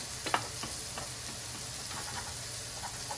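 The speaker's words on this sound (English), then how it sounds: "Pulled them out of the casing and gonna cook them up into little chunks of ground sausage, spicy" Chunks of spicy ground sausage, pulled from the casing, fry in a pan with a steady close sizzle and a few scraping stirs, no talking.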